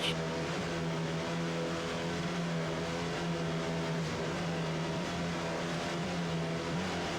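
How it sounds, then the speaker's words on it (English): Offshore racing powerboat engines roar together at the start of the 1993 Virginia Beach Offshore Grand Prix, a steady loud droning rumble that holds throughout with no talk over it. "Just listen to those engines."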